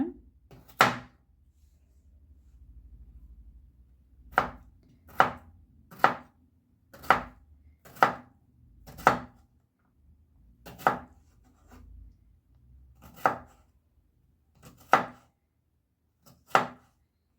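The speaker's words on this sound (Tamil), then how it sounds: "தோலோடு வெட்டி பொடியாக வெட்டிக்கிறோம்" A knife chops skin-on potatoes into small pieces on a cutting board: about a dozen sharp, close knocks, irregularly spaced with brief quiet gaps, and no talking.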